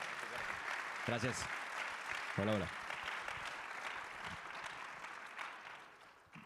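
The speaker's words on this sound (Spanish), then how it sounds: "un aplauso para Sergio" Audience applause for a speaker at a business talk, a steady wash of clapping heard throughout while someone briefly speaks over it with short greetings.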